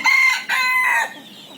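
A labuyo wild-type rooster crows once, close and loud, a bright two-part call that breaks briefly and then trails off.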